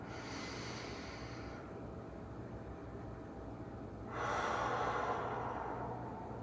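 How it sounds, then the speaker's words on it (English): A deep, dramatic inhale meant to fill the right lung during a guided breathing exercise: a soft airy breath close to the mic, then a stronger, fuller one after a short pause. "Breathing in."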